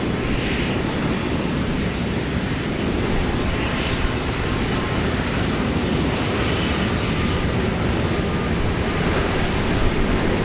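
An Airbus A380 departs Sydney Airport in rain, its engines a loud, sustained, broad roar that stays steady throughout, with no talk.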